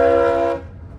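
The 80-year-old, million-pound Union Pacific Big Boy No. 4014 steam locomotive gives one loud, rich whistle blast that cuts off abruptly, leaving a low rumble behind.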